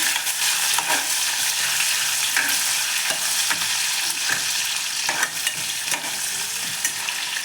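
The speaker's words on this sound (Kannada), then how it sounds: "ಕರಿಬೇವಿನ ಸೊಪ್ಪು ಹಾಗೆ ಈ ಕಟ್ ಮಾಡ್ಕೊಂಡಿರೋಂಥ ಈರುಳ್ಳಿ ಸ್ವಲ್ಪ ಈರುಳ್ಳಿ ಫ್ರೈ ಆಗಬೇಕು" Chopped onions and curry leaves fry in a pan with a continuous loud sizzle, cut by periodic scraping stirs of a spatula at close range and no talking.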